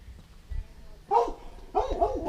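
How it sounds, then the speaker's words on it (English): A dog barks twice, short yappy barks at moderate distance over faint background noise. "Neighbor has a dog."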